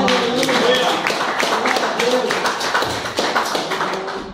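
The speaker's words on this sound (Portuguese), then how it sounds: "Você pode aplaudir ao Senhor." Church congregation applauding the Lord during a sermon, a sustained wash of many hands clapping with voices mixed in, steady and fairly loud before tapering slightly.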